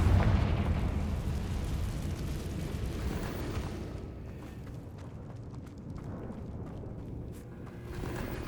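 A rumbling Confringo spell blast in Hogwarts Legacy, a loud explosion that rolls on as a sustained low roar and slowly settles, with no talking over it.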